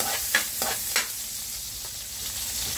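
Onions being stirred and sautéed in a pan for pakbet, with a soft steady sizzle broken by a few sharp scraping stirs of the utensil, close and fairly quiet.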